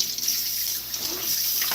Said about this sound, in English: So we're going to rinse that out.